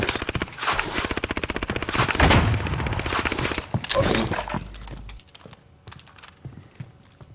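Bursts of rapid gunfire in the battle royale game Call of Duty Warzone, loud close shots for several seconds, then fading to sparse distant pops and quieter game sounds.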